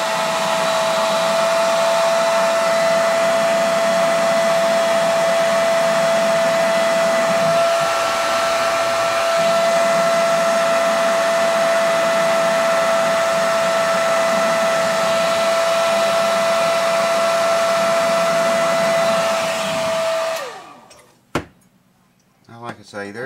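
A heat gun warms the glued pick guard on a Martin D28 guitar for removal, blowing a loud, steady high whine and airy roar for about twenty seconds before shutting off, followed by a few soft clicks.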